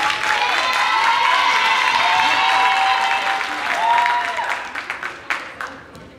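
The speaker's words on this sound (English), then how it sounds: "let's clap and give a round of applause for Siani Williams." A school district audience breaks into loud, sustained applause mixed with cheers and whoops. Toward the end it thins out into scattered individual claps.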